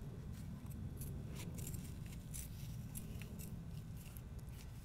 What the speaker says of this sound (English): I went in with some scissors, cut those out